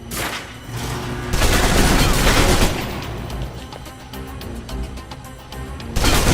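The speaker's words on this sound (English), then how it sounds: "Now for your submachine guns" Video game submachine guns firing in close-quarters combat, loud bursts of rapid shots that swell, thin out into scattered pops and then return strongly at the end.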